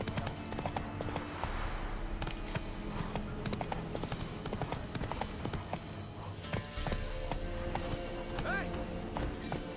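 Roach, Geralt's horse in The Witcher 3, gallops with a steady, close clip-clop of hooves throughout, with voices talking over the hoofbeats.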